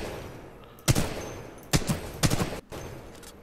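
Several sharp gunshots from Titanfall 2 ring out in quick bursts, three or four loud cracks spaced unevenly over a low background hum, like game weapon fire.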